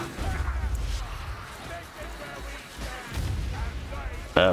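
Explosions and heavy booms in Warhammer Vermintide 2 rumble through the clip alongside combat noise, with a voice talking over much of it and a sharp burst near the end.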